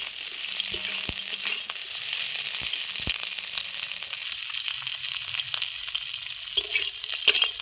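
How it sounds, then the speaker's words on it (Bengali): Bitter gourd (uchhe) frying in a pan of hot oil, a steady close sizzle with a few sharp clicks and clinks of the utensil against the pan, no voices. "বড়ি ভাজার পর এবার আমি উচ্ছেগুলো ভেজে নিচ্ছি।"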